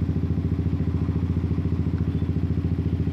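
A fuel-injected Yamaha R15 motorcycle idles close up during injector servicing and CO tuning, its engine beating in a fast, even, regular thump with no voices heard.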